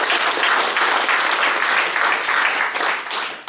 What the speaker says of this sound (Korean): 다시 한번 큰 박수 주십시오